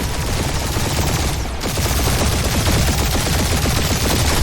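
Dense, continuous turret gunfire in the Marvel's Guardians of the Galaxy video game, a loud unbroken rattle of rapid shots that keeps going with no pauses and only a short dip in the middle.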